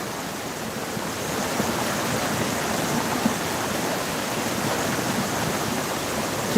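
A mountain valley stream at Jirisan Daeseonggol rushes steadily and loudly, a continuous broadband wash of flowing water with no breaks and no voices.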